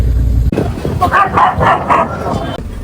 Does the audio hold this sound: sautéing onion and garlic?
no